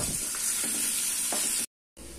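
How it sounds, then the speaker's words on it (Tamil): Tomatoes sauté in a pan for a roasted gram chutney, giving a close, even frying sizzle with faint stirring scrapes, broken by a brief moment of silence. "இப்போ இதை வதக்கிக்கலாம். தக்காளி நல்லா மேஷ ஆகிற அளவுக்கு வதங்கணும்."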